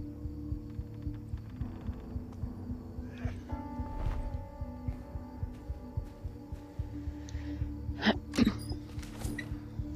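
A guard sneezes in the stealth video game Thief. Sharp bursts come near the end over a low, continuous hum and some soft ambient thuds.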